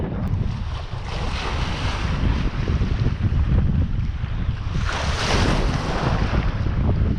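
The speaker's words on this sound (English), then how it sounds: "Because it is pretty windy." Strong easterly wind roars continuously across open sea off the East Cape of New Zealand, buffeting the microphone on a fishing kayak with waves washing underneath, loud and steady throughout.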